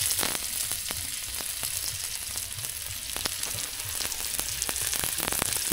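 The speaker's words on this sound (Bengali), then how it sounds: "পেঁয়াজটা দিলাম, পেঁয়াজটা লাল লাল ভাজা ভাজা হবে।" Chopped onion fries in a hot pan while a snakehead fish curry is being made. It gives a steady, close crackling sizzle dotted with sharp little pops and no talking.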